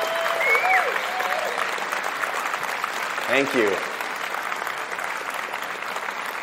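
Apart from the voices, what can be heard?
audience applause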